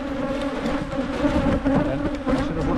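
African honeybees swarm and attack during hive rebuilding work, a dense, close buzzing of many wings that swells and dips without a break.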